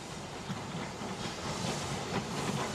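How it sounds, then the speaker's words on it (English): A Standard class 4MT steam locomotive arrives at a station on a line from Wareham, heard as a steady, moderately distant rumble with soft hissing steam and faint rhythmic clatter of wheels, without any voices. "The standard class 4MT arrives from Wareham."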